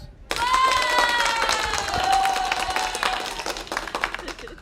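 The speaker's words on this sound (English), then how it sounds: "all right, applause." Audience applauding aboard the Margaritaville At Sea cruise ship, a sudden burst of dense clapping, loud and close, that holds steady for several seconds with a bright tonal sound running through it.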